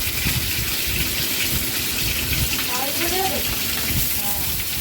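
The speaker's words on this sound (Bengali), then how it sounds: "এখানে আমি তিন পিস পার্সে ভেজে নেব আগে হালকা করে" Three pieces of parshe fish fry lightly in hot oil, giving a steady, loud, dense hiss and crackle that runs without a break from start to finish.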